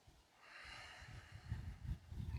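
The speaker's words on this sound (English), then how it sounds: "Get that ocean sound, breathing in through your back, the sides, and your chest." Deep ujjayi-style yoga breathing with an ocean-like rush, a soft steady airy hiss through the throat that swells and ebbs over a couple of breaths, close and quiet with no talking.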